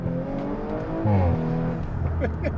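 Supercharged Audi S4 launching hard and accelerating, a loud, close engine roar rising through the revs with a sharp pitch sweep mid-run, some voices faintly underneath.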